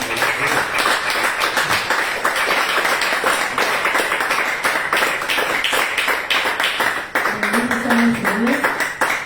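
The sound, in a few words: congregation clapping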